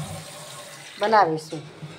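Water splashes and pours while dal lentils are washed in a bowl, a brief wet swish heard briefly beneath a person talking nearby.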